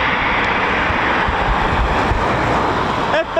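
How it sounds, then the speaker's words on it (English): An F-35B fighter jet roars overhead near an RAF station, a loud, broad and steady rushing noise that fills the scene with wind buffeting the microphone. "F-35B."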